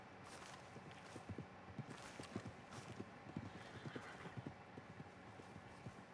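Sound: horse hooves clip-clopping and whinnying in Red Dead Redemption 2 video game

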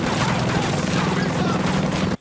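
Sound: explosion and gunfire in Ghost Recon Breakpoint video game

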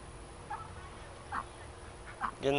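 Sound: ducks quacking

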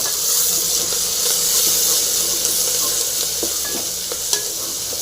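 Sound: frying crushed garlic, curry leaves and coriander in a pan

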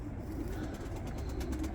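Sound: pigeons cooing in coops

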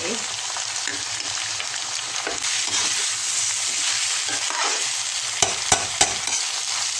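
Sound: stir-frying tofu, sweet radish, carrot and dried shrimp

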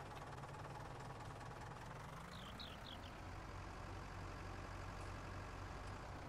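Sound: tractor engine running in Farming Simulator 19 video game

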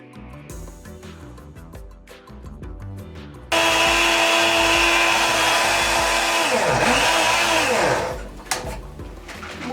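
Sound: Arzum Shake'n Take blender running

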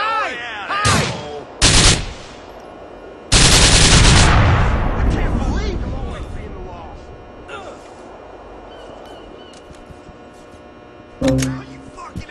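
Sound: gunfire in the video game GTA IV

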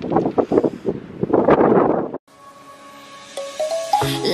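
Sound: wind

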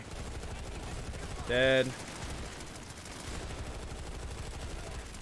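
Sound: gunfire from the video game Planetside 2

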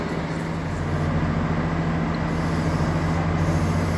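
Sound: medium-distance train to Zaragoza arriving, Valencia Nord station

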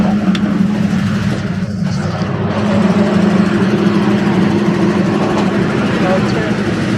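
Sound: train engine room running

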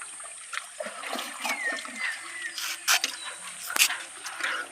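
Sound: fish being released into a pond, splashing

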